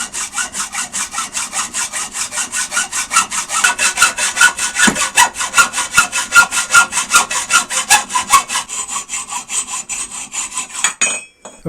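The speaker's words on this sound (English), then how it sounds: "I'll give it a slightly more challenging cut with this piece of 80mm extruded aluminum strut." A Gedore 407 cast aluminum hacksaw saws through a piece of 80mm extruded aluminum strut, giving a steady run of close, loud rasping strokes in quick even rhythm that stop abruptly near the end.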